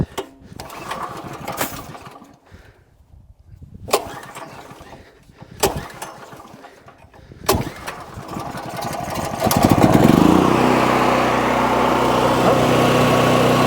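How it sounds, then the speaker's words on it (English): A Harbor Freight Predator 9000-watt generator is pull-started by hand. Four sharp recoil-cord yanks are spaced a couple of seconds apart, then the engine catches and settles into a steady, loud running drone. "I'm going to pull start it because I didn't bring the battery out here"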